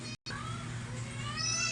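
Hungry cats meow close by while their food is being prepared, a short run of clear, insistent cries broken by a brief silent gap.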